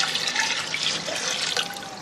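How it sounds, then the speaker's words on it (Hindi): Water pours in a steady rushing stream into a pot holding calf paya trotters for a Lahore-style paya, continuous and close with no voices. "और इसमें इतना पानी डालेंगे कि ये पाए"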